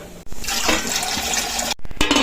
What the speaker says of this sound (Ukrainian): Тепер розсіл будемо зливати назад в каструлю.